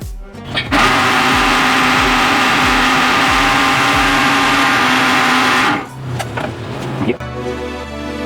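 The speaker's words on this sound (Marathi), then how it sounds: "तरी अजून एकदा मिक्सरला फिरवून घेऊ थोडं काही राहिलं असेल तर ते देखील निघून येईल" A mixer grinder churns cream to separate the butter while making ghee at home, a loud steady whining motor roar for about five seconds that winds down, followed by a few light knocks.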